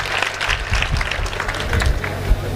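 A gathering at an Urdu literary event applauds its host with brisk, dense clapping from many hands, loud and continuous throughout with no voices.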